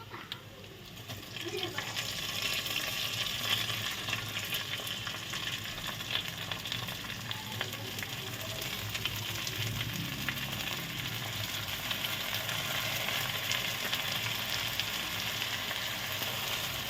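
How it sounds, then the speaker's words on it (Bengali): Soaked rice fries in a pan with a continuous, dense sizzle that holds loud and even throughout, with soft stirring underneath and no talking. "ভালো করে ভেজে নিব চালটা।"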